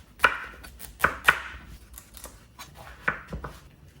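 A knife chops through butternut squash into even chunks for roasting, several sharp board knocks landing in irregular bursts, close and fairly loud, with no talking.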